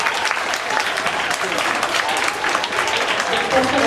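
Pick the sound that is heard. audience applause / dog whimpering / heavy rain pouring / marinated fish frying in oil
audience applause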